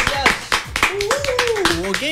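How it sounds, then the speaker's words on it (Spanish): An audience claps at a tropical orchestra's live performance, with uneven close hand claps mixed under a voice talking and other voices nearby. "Un aplauso para toda la hinchada, se lo merece por acá."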